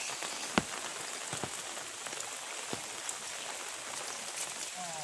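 Steady rain falls on a surface outdoors during a catfishing trip, a soft continuous patter with scattered sharper drop hits and no speech.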